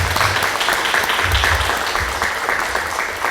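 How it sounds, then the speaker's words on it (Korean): Audience clapping at an eco art fair talk after a musical performance, a steady close round of applause with no speech. "박수 부탁드립니다"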